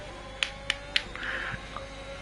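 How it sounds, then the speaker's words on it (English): Three sharp, close hand claps spaced evenly about a quarter second apart, followed by a faint murmur, over a quiet background hum while watching a Saudi Arabia race stream. "Don't know if you could hear my sarcastic clapping, but it was sarcastic clapping"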